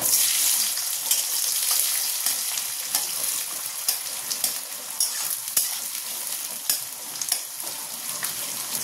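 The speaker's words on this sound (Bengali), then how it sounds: "তেল নিয়েছি, তেলের পরিমাণটা একটু বেশি হবে। গোটা গরম মশলা আর একটা তেজপাতা, পেঁয়াজটাও দিয়ে দেবো।" Whole garam masala, a bay leaf and onion fry in a generous amount of hot oil in a kadai, giving a continuous loud sizzle broken by frequent stirring scrapes and small crackles.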